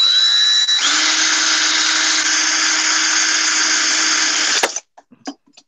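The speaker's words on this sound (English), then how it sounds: "and I'm just going to force my drill in." A power drill is forced into a piece of plastic clamped in a vise, grinding loudly and steadily for about four seconds before cutting off, with a few faint knocks afterward.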